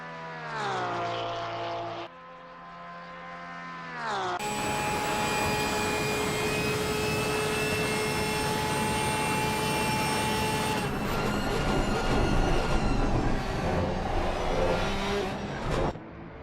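Porsche flat-six GT race car engine at Spa-Francorchamps, a loud, sustained high-pitched wail with rising and falling pitch through gear changes, a brief lift near the start, then steady full-throttle howl close by.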